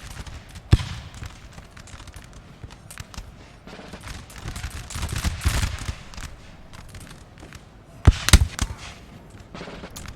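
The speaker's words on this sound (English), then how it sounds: "point blank volleys going on here" Musket volleys crackle across a Napoleon Total War battlefield, ragged bursts of massed gunfire at middle distance, with two sharper, louder volleys standing out over a continuous background of scattered shots.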